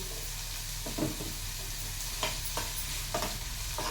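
Onions frying in a pan make a steady, even sizzle close up, with a few soft scraping stirs breaking through at irregular moments.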